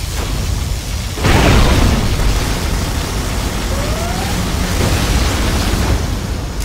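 Particle cannon blast in the strategy game Command & Conquer Generals Zero Hour: a loud booming explosion erupts, then a long dense roar of rumbling noise rolls on, with a brief rising whine mid-way.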